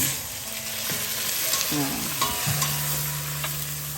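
Mushrooms stir-fried in a pan for eggplant pasta: a steady close sizzle with scraping and clinks of a utensil against the pan, and a low background hum throughout, no talking.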